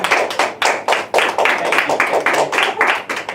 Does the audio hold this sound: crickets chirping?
no